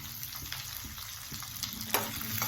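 Lentils, peanuts, chillies, garlic, shallots and ginger sautéing in a pan for murungai keerai chutney, a steady close sizzle with light stirring clicks and scrapes, no voices.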